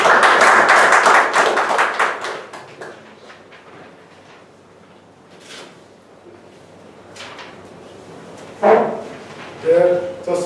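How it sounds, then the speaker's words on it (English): A Toastmasters meeting audience breaks into applause, a loud burst of many hands clapping that fades within a few seconds, followed by quieter room noise and some speech toward the end. "Let us give a big round of applause to our Toastmaster."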